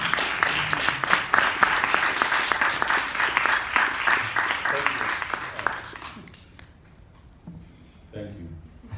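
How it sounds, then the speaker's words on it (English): Audience applause for a guest at an evening event, dense clapping for about six seconds before dying away to scattered claps and a few voices. "Please give him a warm round of applause."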